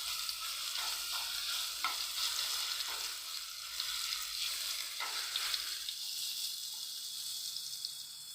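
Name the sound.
ginger garlic paste frying in a pan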